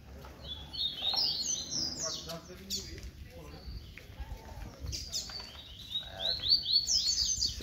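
A papa-capim seedeater chirping outdoors in a street setting, with bursts of high, quick twittering notes at the start and again near the end, mixed with faint background noise and someone speaking quietly.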